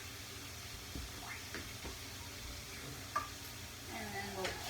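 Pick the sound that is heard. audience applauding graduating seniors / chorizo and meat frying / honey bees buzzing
chorizo and meat frying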